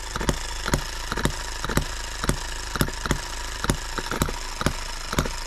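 An H73 small engine runs steadily after a carburetor adjustment, chugging with a regular, evenly spaced knocking pulse about twice a second, loud and close with no talking.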